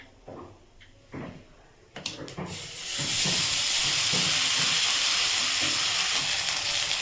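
Fish dropped into a hot wok with mustard sauce: a few quiet clinks and scrapes, then a loud, sudden sizzle that flares up and keeps hissing steadily while it fries, close by.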